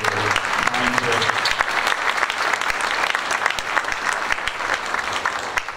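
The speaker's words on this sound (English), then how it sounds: "How about a hand for all the candidates?" Audience at a federal candidate forum in Woolwich Township breaks into sustained, dense applause, steady and fairly loud throughout with a little crowd murmur.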